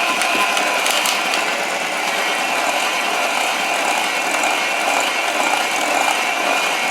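A handheld electric mixer whirs steadily through banana bread batter with brown sugar, a continuous close buzzing drone with faint rattling, running alone without talk for the whole stretch.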